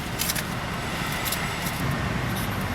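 Road traffic on La Cienega in West LA makes a dense, steady roar of passing cars and trucks, heard close from inside a truck, with a few brief hissy bursts and no speech.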